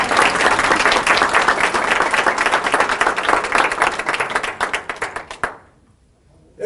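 Studio audience at a National Quilting Day kickoff event breaks into sustained, dense clapping that holds steady, then thins into a few scattered claps and fades to near silence.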